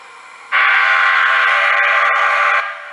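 A Great Northern train whistle played through a TCS WOW model train sound decoder, one loud sustained steady blast of about two seconds that starts abruptly and then tails off, with no talking.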